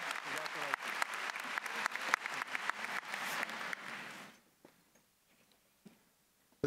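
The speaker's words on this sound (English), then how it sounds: "Let's give her another round of applause." Audience applause at a 2019 Thomas Dale High School graduation ceremony, dense clapping from a large crowd that rings out for about four seconds, then fades to scattered claps and quiet room noise.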